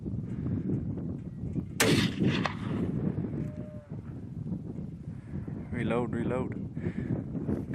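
A single sharp rifle shot rings out outdoors during a Montana mule deer hunt, amid wind noise and low voices talking before and after.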